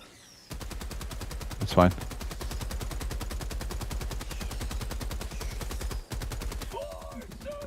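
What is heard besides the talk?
big gun firing at bugs in video game Helldivers 2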